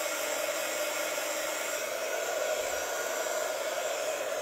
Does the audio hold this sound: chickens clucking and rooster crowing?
no